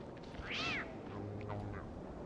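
A catcoon from the video game Don't Starve Together gives one short, rising-and-falling meow near the start, heard clearly over a quiet, steady game ambience with no talking.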